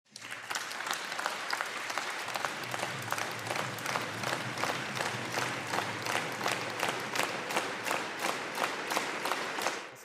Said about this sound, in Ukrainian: Після виступу президента всі присутні в залі аплодували стоячи